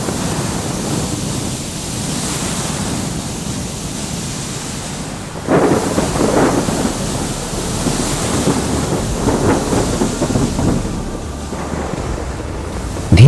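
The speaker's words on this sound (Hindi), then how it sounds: "धीरे धीरे तूफान और तेज होता जाता है" A raging storm at sea with thunder and crashing waves: a dense, loud roar of wind and surf that swells sharply midway into heavier rumbling bursts, continuous with no voices.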